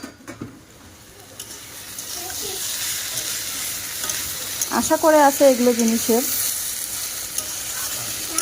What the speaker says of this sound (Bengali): মানকচুটা বসিয়েছি আর একটু ভাজা ভাজা হবে